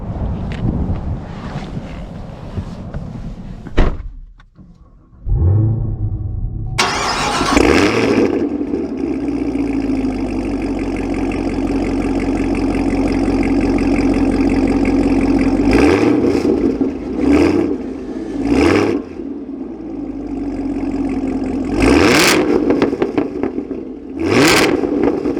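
A 2023 Chevy Camaro ZL1 muscle car, its engine cranking to life after a brief pause, then settling into a loud, steady rumbling idle broken by several sharp revs, with nobody talking.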